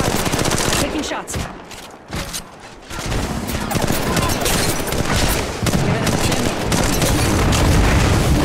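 Incoming gunfire hitting the player in Apex Legends Mobile: loud, dense bursts of rapid shots and impacts, easing briefly, then resuming in a sustained barrage until the end.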